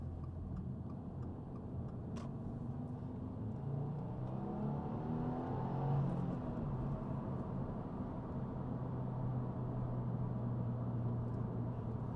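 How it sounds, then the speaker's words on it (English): A modified 400-wheel-horsepower 2015 Subaru WRX STI with stock exhaust revs up steadily and pulls hard in second gear, its droning tone rising in pitch as it accelerates, heard from inside the cabin. "That was a second gear pull."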